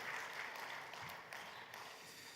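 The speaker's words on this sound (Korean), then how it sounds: "하나님 앞에 영광의 박수로 다시 한번 더 올려드리겠습니다" A church congregation claps in praise during a special early-morning prayer service, a steady, even wash of many hands applauding for a couple of seconds, fairly soft and diffuse.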